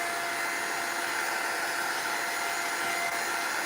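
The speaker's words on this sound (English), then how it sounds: "you can use the heat gun to dry it, so it's going to be even faster" A heat gun blows hot air to dry acrylic paint on mixed-media moulds, a steady, even rushing whoosh with no pauses, fairly close and alone throughout.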